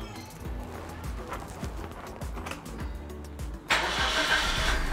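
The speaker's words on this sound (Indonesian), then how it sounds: "Kita mesinnya kita nyalakan" A car engine cranks with rapid starter clatter for a few seconds, then catches and settles into a louder steady idle, close by.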